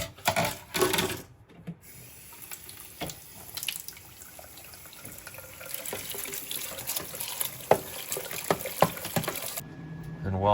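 Glue residue is washed off a 3D printer build plate under a running tap, with steady splashing water, scrubbing and occasional knocks against the sink, loud and close.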